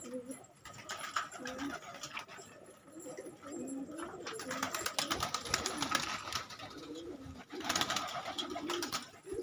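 Pigeons coo close by, soft repeated throaty calls rising and falling over several seconds.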